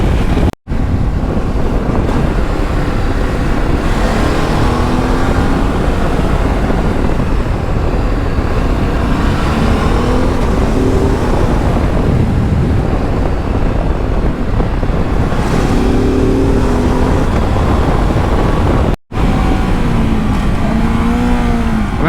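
A 2022 Ducati DesertX motorcycle engine drones steadily while riding, buried under heavy, continuous wind roar against the helmet microphone, with a faint rising and falling engine tone.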